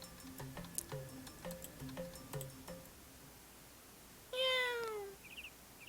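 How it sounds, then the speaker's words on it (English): A cat meows once in the video game Dandelion: Wishes Brought to You, a clear rising and falling cry heard alone after a run of soft, evenly spaced ticking tones, followed by a faint short chirp. "What woke me up was not the alarm that's set for 7 a.m., but the sound of a cat?"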